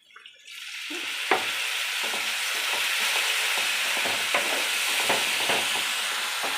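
Food fries steadily in a pan, a dense continuous sizzle with scattered crackles and a few sharp pops, close and fairly loud with nobody speaking.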